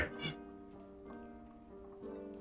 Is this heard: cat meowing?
yes